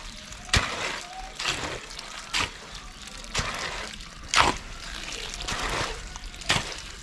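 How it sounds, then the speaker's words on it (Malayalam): Garden soil mixed with water is kneaded by hand into mud, giving a series of separate wet squelches and slaps at irregular intervals over a quiet background. "ഇനി നമുക്ക് ഈ മണ്ണൊന്ന് വെള്ളം ചേർത്ത് കുഴച്ചെടുക്കണം."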